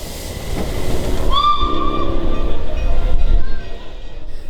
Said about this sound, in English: A64 creates a smokescreen as she gently departs from Moorhouse Station.